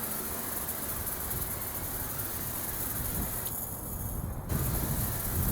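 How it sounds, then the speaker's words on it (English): A steady, soft hiss of liquid spraying from the wand nozzle of a homemade FohmerToo garden tank sprayer continues throughout, briefly shifting in tone near the end. "press down on the wand end and liquid will spray out"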